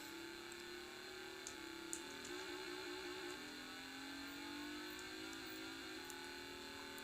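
A synthesized car engine from the Vectrex racing game Hyperchase drones steadily in fourth gear, its buzzy electronic tone sagging slightly in pitch as the car slows.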